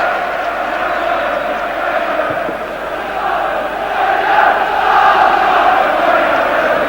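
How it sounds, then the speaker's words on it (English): Football stadium crowd at Sheffield Wednesday against Tottenham, a broad steady roar of thousands of fans that swells slightly louder toward the end. "home crowd certainly behind their team, the Spurs fans behind theirs"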